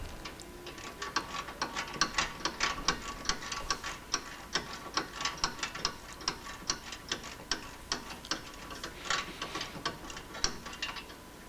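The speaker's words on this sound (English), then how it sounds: "And eventually we'll get that bolt out." Rapid ratcheting from a hand socket wrench working a bolt loose on the front suspension of a Chevrolet Corvette C3 during disassembly, a steady stream of close, crisp clicks in uneven bursts, with no talking.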